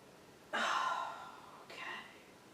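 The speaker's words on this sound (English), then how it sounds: "And one more deep breath here." Two audible breaths during a yoga stretch: a long, airy exhale followed by a shorter second breath, close and soft against a quiet room.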